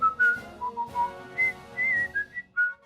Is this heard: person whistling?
yes